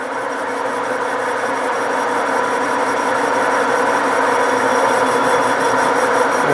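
A steady, unbroken scraping hiss from a machining cut taking ten thousandths off a pulley's surface to make it flat again, close and constant throughout with no talking.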